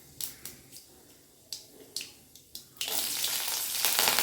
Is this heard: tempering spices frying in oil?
yes